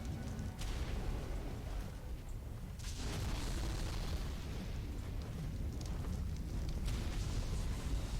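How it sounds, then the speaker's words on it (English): Fireballs blasting from a dragon in Ark: The Island, a continuous roaring, booming rumble with repeated bursts, loud and dense throughout and no talk over it. "And blasting away with those fireballs too."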